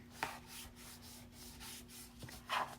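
Folded paper pockets are burnished flat by hand, giving soft rubbing and scraping strokes with a few sharper brushes near the start and end, close and fairly quiet over a steady background hum.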